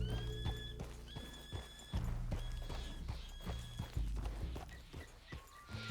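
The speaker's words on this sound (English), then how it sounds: "Opa, calma, cavalo." Horse hooves clip-clop at a steady walking rhythm in Red Dead Redemption 2, close and clear, with an occasional soft snort or whinny and a few dull thunks, no one speaking.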